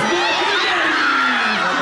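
Russian football fans in a crowd cheering and chanting, with high-pitched squealing from girls rising over the dense, loud roar, brief and continuous.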